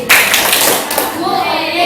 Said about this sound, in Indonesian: Kita beri tepuk tangan dulu yuk.